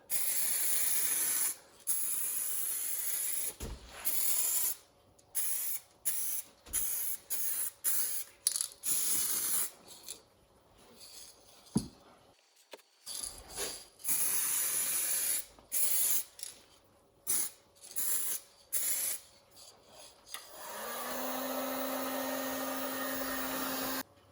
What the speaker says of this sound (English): All right, a little bit of clear coat.